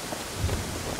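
Steady rain hiss with low rumbling thunder swelling in the middle, a stormy ambience in the survival game Rust during a medieval arena battle, continuous and fairly loud with no talk.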